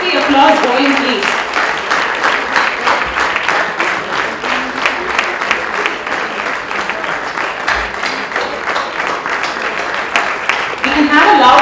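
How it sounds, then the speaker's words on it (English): Sustained applause from an audience honouring award winners on stage, dense, loud and steady for the whole stretch, briefly swelling at the end. "Keep the applause going, please."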